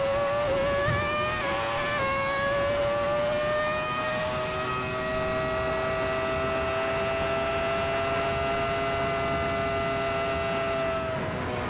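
Ferrari F2004 Formula 1 car in the Kunos racing game at Monza, its engine a steady high-pitched whine held at moderate revs for most of the run, with brief pitch shifts early on and a continuous loud drone.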